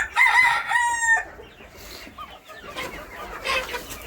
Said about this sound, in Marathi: ही आपली कोंबडी आहे, ती फिरते सर्वकडं